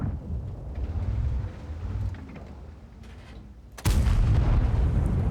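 A single tank cannon shot in a tank video game booms suddenly and loudly out of a low rumbling battle ambience, its heavy blast sustaining to the end.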